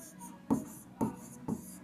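Someone writes the solution to a class 8 maths surface-area problem about a box, making three short, scratchy pen strokes at an even pace, close and soft.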